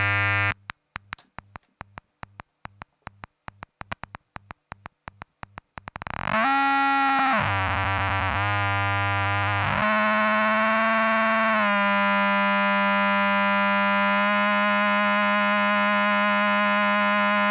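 No-input feedback from an equalizer looped back on itself: a rapid stuttering pulse for several seconds, then loud sustained electronic tones that lurch and shift in pitch and timbre, alone with no voices.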